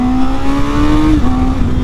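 A 2021 Honda CB650R naked motorcycle, its engine unshielded by any fairing, holds a loud, steady, close engine drone with a strong humming tone that dips briefly before settling again.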